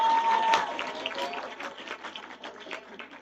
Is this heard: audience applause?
yes